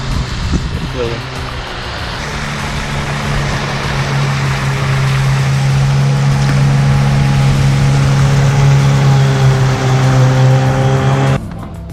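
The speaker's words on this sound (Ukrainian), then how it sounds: "Четвертий моторний човен" A motorboat passing on a river during autumn pike fishing on the Psel, its outboard engine a loud steady droning whine with a strong low hum that builds and holds before cutting off at the end.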